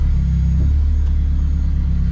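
A Mazda RX-7 rotary with a dual-clutch gearbox rumbles low and steady while reversing under light throttle, a close, pulsing engine drone with no talk over it.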